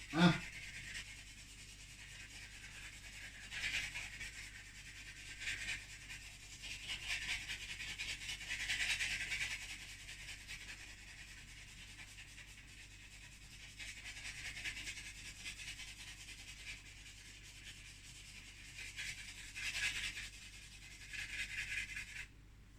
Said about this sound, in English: This piece of charcoal is very much testing me at this point, with its hard bits, scratchy bits.